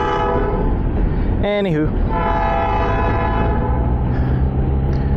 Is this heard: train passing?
yes